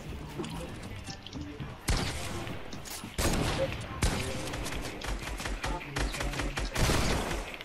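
Video game gunfire in a building-and-shooting match, with several sharp bursts of shots cracking loudly at irregular intervals over a busy background.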